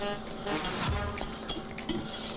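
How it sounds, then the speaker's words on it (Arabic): A spoon scrapes and clinks against a pan as flour is stirred into caramelized sugar and butter, steady metallic tapping and scraping that continues throughout at close range. "نزلت عليهم بالدقيق وبقلبه اهو كويس جدا معاهم"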